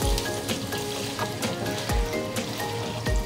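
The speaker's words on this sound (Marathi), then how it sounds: "आपलं पनीर फ्राय झालेलं आहे, फ्राय मस्त गोल्डन झालेलं आहे" Paneer cubes frying golden in a pan of hot oil, a dense steady sizzle with crackles and occasional clinks of stirring, close and alone.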